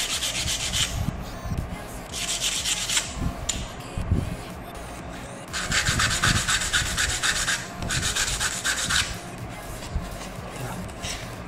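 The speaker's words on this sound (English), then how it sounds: "bring in the sandpaper and sand it down slightly" Sandpaper rubbing back and forth on a cut plastic torso piece from a 1/60 Gundam model kit, a close, scratchy rasp in repeated strokes that pause briefly between passes.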